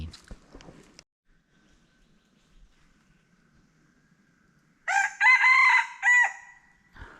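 Jungle fowl rooster crowing outdoors, a single loud, clear crow after several seconds of quiet, close by, with faint rustling beforehand.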